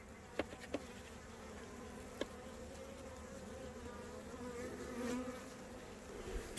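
Honey bees hum steadily in a dense, close buzz around a hive frame, with a few brief clicks and knocks over the drone.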